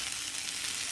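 Peppers fry in a pan for a quick lunch, giving a soft, steady, close sizzle with a continuous hiss and no talking.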